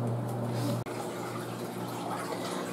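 Water runs and splashes inside a Haier HLP21N portable washing machine during its rinse cycle, a steady close wash of liquid with a brief low hum fading out near the start.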